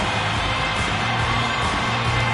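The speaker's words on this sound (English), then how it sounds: "you can feel the energy in this crowd" Arena crowd noise from an NHL 25 hockey game, a steady, dense roar of cheering and shouting that holds at a constant level for the whole stretch, broadband and continuous with no pauses.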